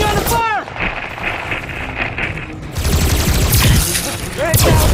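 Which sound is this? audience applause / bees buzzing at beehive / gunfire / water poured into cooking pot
gunfire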